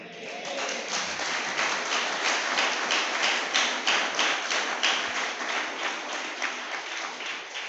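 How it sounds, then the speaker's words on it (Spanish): Church congregation at a Sunday service clapping their palms together in a rhythmic, steady beat, sharp hand claps repeating evenly at moderate loudness without speech. "¿Puede usted aplaudir con sus palmas?"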